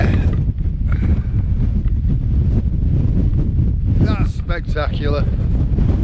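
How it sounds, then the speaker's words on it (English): Strong, blustery north wind buffets the microphone in a constant roar on an exposed stretch of the Welsh coast, with a person speaking briefly near the end. "Blustery winds coming in from the north."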